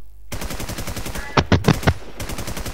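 Rapid automatic gunfire from a California PvP video game, a steady burst of shots followed by a few louder, separated bangs, then more continuous firing, with no talk.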